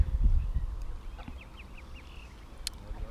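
Ducks quack at Chafford Gorges Nature Park, a series of soft, moderately close calls after an opening rush of wind and handling noise, with no clear talking.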